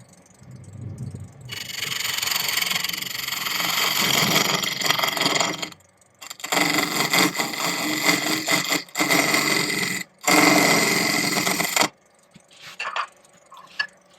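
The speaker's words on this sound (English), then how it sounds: "I'm using a carbide tool today, and that's because the glue gets cut much nicer with this hard tool rather than me dulling my gouges" A wood lathe spinning at about 940 rpm while a hard carbide tool cuts through glue, giving loud, harsh scraping bursts in three long passes separated by brief pauses, close up.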